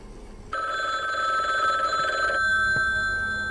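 An old telephone bell rings inside a house in the indie home-invasion horror game Ding Dong Dead, one loud continuous ring starting after a brief quiet moment and then cutting off, leaving a hum with a few faint clicks.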